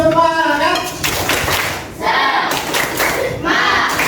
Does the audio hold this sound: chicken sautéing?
no